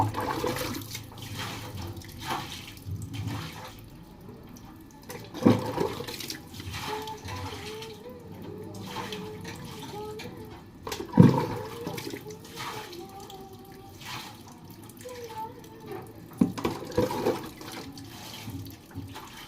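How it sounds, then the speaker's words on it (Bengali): Running water rinsing a kitchen sink after scrubbing, with splashing and gurgling water under intermittent clatters and knocks. "একটা জল দিয়ে ধুয়ে নেব।"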